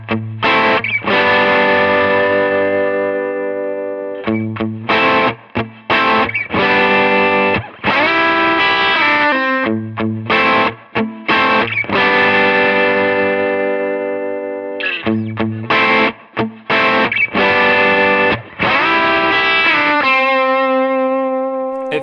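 Electric guitar through a Browne Amplification Protein overdrive pedal with both sides stacked, playing loud, thick distorted chords and sustained notes in repeated phrases, ending on a held note, with no talking.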